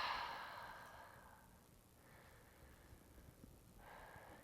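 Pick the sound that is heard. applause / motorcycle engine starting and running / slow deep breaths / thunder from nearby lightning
slow deep breaths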